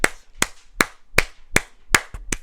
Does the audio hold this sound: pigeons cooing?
no